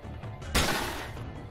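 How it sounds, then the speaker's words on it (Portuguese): A single gunshot fires in the video game Steamworld Heist. One sharp, loud crack is followed by a short decaying tail over quiet game ambience. "E agora eu dou um tiro."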